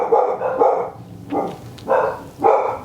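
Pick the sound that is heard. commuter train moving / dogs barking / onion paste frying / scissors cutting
dogs barking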